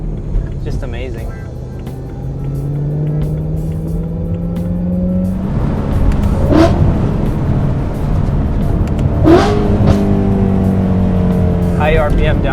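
Modified BMW E93 M3 engine revving and blipping through high-RPM downshifts, a loud rising and falling engine note with sharp rev spikes, heard from inside while driving.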